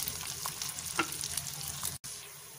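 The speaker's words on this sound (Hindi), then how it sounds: "घी हमारा गर्म हो गया है। अब हम इसमें प्याज शामिल करेंगे।" Sliced onions sizzle and crackle steadily in hot ghee in a pan for a quick chicken biryani, a close, continuous frying hiss with light stirring scrapes and no talk.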